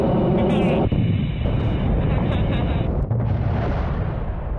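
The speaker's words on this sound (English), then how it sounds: "as the rest of the rocket sort of explodes down there" A rocket breaking apart and exploding in a video game, heard as a loud, sustained roaring blast with rumbling crackle that runs throughout, with a brief dip near the end.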